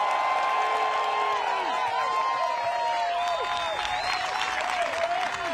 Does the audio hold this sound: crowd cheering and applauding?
yes